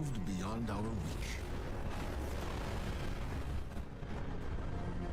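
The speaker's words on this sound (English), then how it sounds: "Explosions." Rumbling Destiny 2 explosions boom and roll over a dense layer of noise, starting with a warbling tone that fades into continuous blasting.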